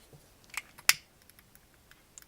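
Scissors trimming thread tails on a handmade earring: two small, crisp snips close by, with faint clicks around them in an otherwise quiet room and no talk.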